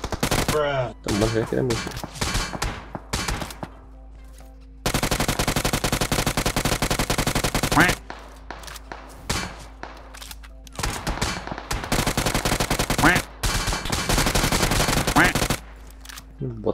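Loud, near machine-gun fire in the shooter game Free Fire, rapid sustained bursts of automatic rounds with brief pauses, while players talk over it.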